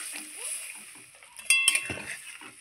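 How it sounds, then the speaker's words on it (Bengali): Water is poured into a pan of cooking curry, with a short splash and some clinks of the pan and utensils, heard close up in a kitchen. "দেখুন অল্প পরিমাণে জল দিয়ে দেবো।"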